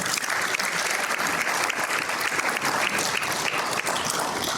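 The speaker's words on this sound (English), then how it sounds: "Please give him another round of applause" Diners at a community unity dinner applaud, a dense, continuous round of clapping from a large crowd that holds steady and loud throughout.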